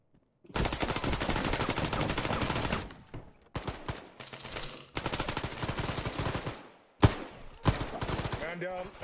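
Loud bursts of rapid automatic gunfire crackle in a video game military exercise, with a long sustained volley followed by several shorter bursts and a sharp single shot, separated by brief pauses.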